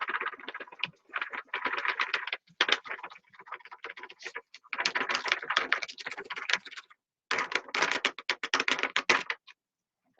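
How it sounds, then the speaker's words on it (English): Glitter is dumped from a folded paper back into its container while painting a bee wood cutout, a close rattling patter in several bursts separated by short pauses. "now we're just make our taco, put it back in here and dump our glitter back in"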